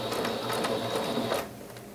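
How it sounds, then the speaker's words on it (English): Steady whirring chatter of a sewing machine stitching a straight line across fabric, close and continuous, then slowing and fading out near the end. "now all you're gonna do is sew straight across"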